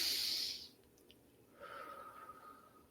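A woman breathing deliberately through a labor contraction: a loud, airy exhale at the start, a quiet pause, then a softer, longer breath with a faint hum-like tone, close to the microphone.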